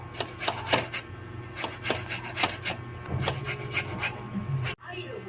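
Carrots being grated into small pieces for carrot cake, a steady series of close rasping scrapes against a grater in an even rhythm, with a faint hum underneath.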